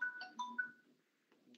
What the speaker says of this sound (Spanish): me olvidé de silenciar el celular